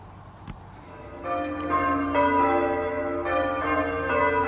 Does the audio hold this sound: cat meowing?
no